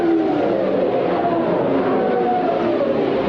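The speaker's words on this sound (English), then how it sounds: "Engine kicking over." A race car engine at the 1978 Rex Mays 150 roars loudly and continuously, a dense droning motor noise with a steady pitch that holds throughout, and no voices are heard.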